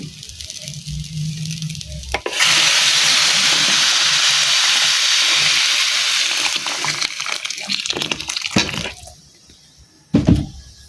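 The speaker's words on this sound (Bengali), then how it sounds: "এখন আমি পানি দিয়ে দিব, আর পানিটা আমি আগে থেকেই গরম করে রাখছি" Hot water poured onto fried polao rice for beef tehari in a pan sets off a loud, sustained hiss and sizzle of steam that runs for several seconds, then fades before a brief final burst.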